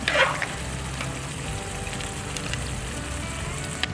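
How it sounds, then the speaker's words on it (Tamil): Kongu-style country chicken kulambu boils in a pot with a dense, continuous bubbling and sizzling hiss that stays steady and close throughout. "சிக்கன் குழம்பு நல்லா கொதிச்சிட்ருக்குதுங்க"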